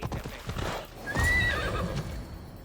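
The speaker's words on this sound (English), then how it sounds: "I thought Adonis could make good use of this horse." A horse in the Assassin's Creed Odyssey video game clip-clops on the ground and then gives a clear, close whinny partway through, with the hoofbeats continuing around it.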